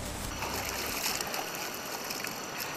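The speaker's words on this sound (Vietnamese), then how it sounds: "lúc này đây thì tiếng suối nghe đang rất là vui tai rồi" A forest stream at Rào Rồng flows and trickles steadily, a close, continuous watery hiss with no talking over it.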